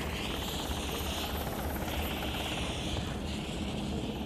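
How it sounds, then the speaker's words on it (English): A rescue helicopter's rotor thrums steadily and loudly throughout as it approaches a liferaft, a constant beating drone with engine whine, no voices. "When the rescue helicopter approaches the raft ready to lift off survivors"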